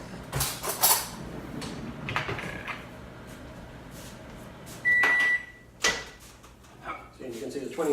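A microwave oven melting chocolate chips gives a steady beep, with door and cupboard-like clunks around it and a person talking throughout.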